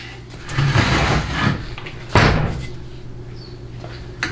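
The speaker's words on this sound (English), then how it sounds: "I have to go fishing into the drawer for one." Someone rummages through a workshop drawer during a Chrysler A904 automatic transmission teardown, hunting for a 7/16 socket: loose tools clatter and knock in uneven bursts, with one sharper bang midway, close by and fairly loud.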